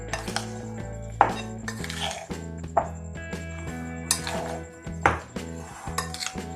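Quail fry ingredients, including soy sauce, being mixed in a pan, with a spoon repeatedly scraping and clinking against the metal in uneven strokes and several sharper knocks, close and clear with no talking.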